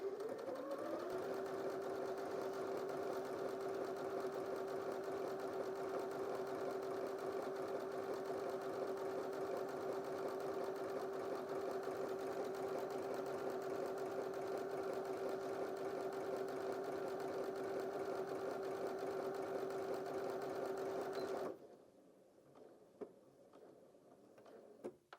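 A Janome DKS30 sewing machine stitches stretch fabric in a steady, even mechanical whir that runs without a break for about twenty seconds, then stops, leaving only a few faint clicks.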